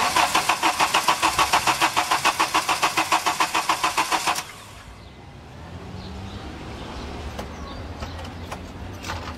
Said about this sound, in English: All right, let's crank this a couple times and see what we get.